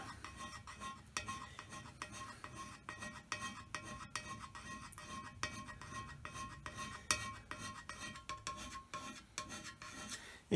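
Hand scraping of a metal surface with a blunt, heavy scraper, producing a steady series of harsh rasping strokes close up, each stroke a short gritty scrape repeating in an even rhythm throughout.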